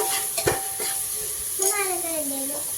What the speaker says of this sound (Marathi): हा ओला वाटाणा आहे तो टाकतीये, त्याच्यानंतर गाजर हे टाकते आणि हे थोडंसं फ्राय करून घेतीये.